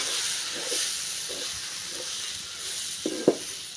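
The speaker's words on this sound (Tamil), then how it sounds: "மசாலாவையும் சேர்த்து எண்ணெயிலே நல்லா வதக்கி விட்டுடலாம்" Ground masala sautéing in oil for a fenugreek curry gives a steady, fairly quiet sizzle and hiss throughout, with a few soft stirring scrapes and two sharper clinks near the end.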